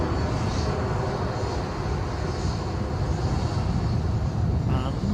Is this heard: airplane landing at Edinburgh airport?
yes